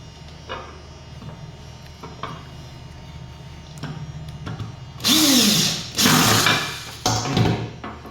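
Power screwdriver driving a screw into a double COB light fitting, several loud whirring bursts of the drill after quieter handling taps and clicks, close and alone with no talk.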